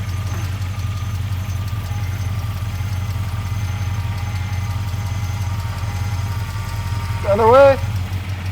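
A BMW E39 M5 engine idling while the car sits raised in the air, a steady loud low rumble throughout, with a brief spoken remark near the end over the running engine.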